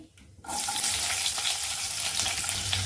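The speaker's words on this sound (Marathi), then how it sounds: "आणि त्या मिरचीला चांगलं तेलामध्ये परतून घ्यायचं आहे" Green chillies, 4 to 5 slit lengthwise, hit hot oil for Maharashtrian fodnicha bhat and burst into a loud, steady sizzle after a brief quiet start, holding a dense crackling hiss throughout with no talking.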